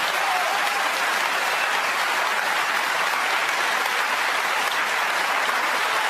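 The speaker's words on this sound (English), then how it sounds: "They're cheering him on here." A snooker World Championship final crowd, Selby against Murphy, breaks into sustained loud applause that holds as a dense, even roar throughout with no letup.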